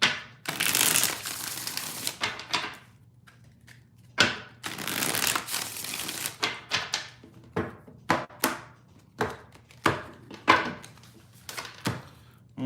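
Close-up shuffling of a tarot deck: two long riffling bursts followed by a run of quick taps and slaps as the cards are cut and squared.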